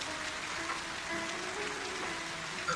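Rain falls steadily in a Bengali ghost cartoon, a dense, even hiss of drops on surfaces with no voices over it.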